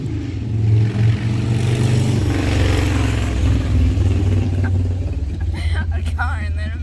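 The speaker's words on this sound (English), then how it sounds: "A car and then a motorcycle." A car engine passes close by, followed by a revving motorcycle, with traffic rumble throughout.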